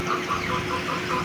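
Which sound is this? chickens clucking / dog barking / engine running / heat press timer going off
chickens clucking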